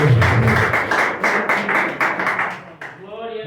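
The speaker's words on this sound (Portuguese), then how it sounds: "Você pode dar uma salva de palmas para o Senhor Jesus?" Church congregation clapping during a prophetic worship service, a steady run of hand claps for about three seconds that fades out into a rising voice.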